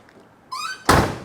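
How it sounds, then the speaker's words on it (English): A 1968 Mercury Cougar XR7 door swings with a short squeak, then shuts with a single solid, close thunk that rings out briefly. "Door shuts real good."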